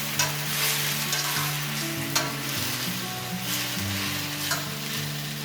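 Local New England kale fries and wilts in a pan, giving a steady, close sizzle that runs the whole time over a soft tonal background with no talking.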